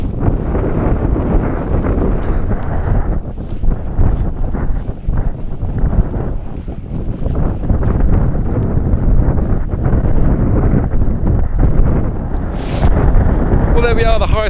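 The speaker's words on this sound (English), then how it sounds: "I apologise for the incessant buffeting of the wind." Steady, heavy wind buffets the microphone on the highest hilltop of Islay, a loud, continuous low rumble with gusting surges throughout.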